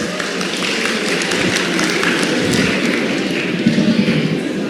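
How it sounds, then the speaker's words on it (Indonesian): Classroom applause from students in a lecture session, a steady dense patter of many hands clapping throughout, fairly loud and even with no pauses. "Oke, tepuk tangan."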